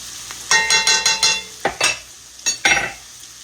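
Grease and meat drippings being stirred in a roast pan for gravy, a quick run of scraping metal strokes then a few separate scrapes and clinks, close and clear with a light sizzle, no voices.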